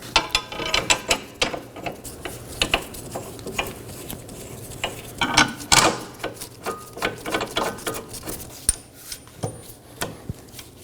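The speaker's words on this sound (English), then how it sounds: "Now I'm going to take my bolts and thread them in." Bolts are threaded by hand into the rear wheel knuckle of a 2018-2024 Chevrolet Equinox, giving quiet, irregular metallic clicks and ratcheting taps close by, with no one speaking.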